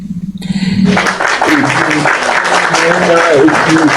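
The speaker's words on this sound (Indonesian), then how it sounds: "Tepuk tangan buat Ibnu Sina" Audience clapping breaks out after a brief spoken lead-in and continues as a dense, lively round, with voices and cheering mixed into the applause.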